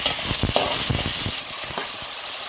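Masala sizzles in a pan with tomatoes for prawn biryani, soft frying hiss broken by a series of close stirring scrapes and clicks in the first half, quieter afterward, with no talking.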